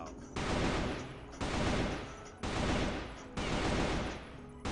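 Rapid tap-fire from a gun in a video game at range: four evenly spaced bursts, each about a second long, loud and close with short gaps between them.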